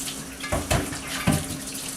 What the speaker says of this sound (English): So we're going to put another gallon of warm water in here.